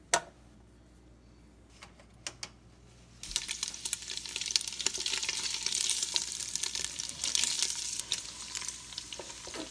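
Cubes of black bear fat tossed into a hot pot break into a steady, close sizzle after a few quiet seconds marked by small scattered clicks.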